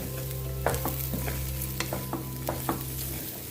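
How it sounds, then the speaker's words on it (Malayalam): Spices and dried red chillies sizzle and fry in a hot pan under a steady hiss, with a utensil clinking and scraping against the pan several times. "നല്ല ബ്രൗണായിട്ട് വറുത്തെടുക്കണം"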